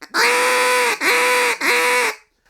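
Three loud, drawn-out quacking blasts on a duck call blown as a hail call, each held near half a second with short gaps, harsh and reedy with strong overtones, close and alone.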